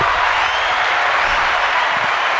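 Soundboard applause effect plays as a steady wash of clapping and crowd noise, even in level and close throughout, with no breaks.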